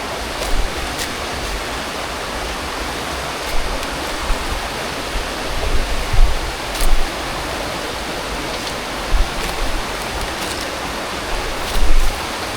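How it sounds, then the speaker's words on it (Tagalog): Loud, steady rushing of a river and waterfall on a mountain hiking trail, a continuous broadband roar close by with occasional knocks and splashes and no voices. "Naririnig ko na dito yung malakas na lagaslas."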